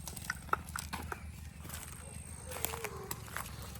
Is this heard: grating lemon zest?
no